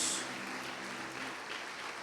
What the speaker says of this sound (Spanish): Damos fuerte esa ofrenda de palmas a nuestro Dios, hermanos.